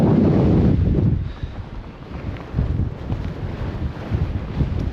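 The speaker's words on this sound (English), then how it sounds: "Then I get back out of the wind." Strong, steady wind roars across a mountain summit in the Scottish Highlands in March, buffeting close and loud throughout with gusty swells and no voices.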